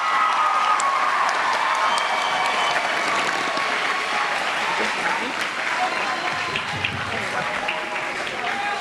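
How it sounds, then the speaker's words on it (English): A graduation crowd at Fords Middle School applauds and cheers for the class of 2025, with dense sustained clapping and scattered shouts from a large audience filling the hall, while a voice carries over the top. "One more round of applause for the class of"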